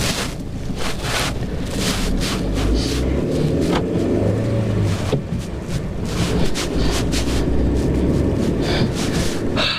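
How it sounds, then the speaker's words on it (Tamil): A car drives through a snowy area near the Pakistan-China border, its steady road rumble mixed with heavy gusting wind buffeting the microphone throughout, loud and continuous. "கொஞ்சம் தூரத்துக்கு இந்த பனி சூழ்ந்த இந்த ஏரியாவில் ஒரு ஆசைக்காக வண்டி ஓட்டி பார்த்துடலாம்"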